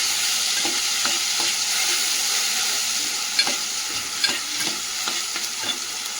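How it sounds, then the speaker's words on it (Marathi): Onion and grated coconut masala sautéing for a dry mutton sukka, a steady broadband sizzle with scattered stirring scrapes and light clicks of the spoon, close and continuous with no talk. "परतून घेऊया सर्व."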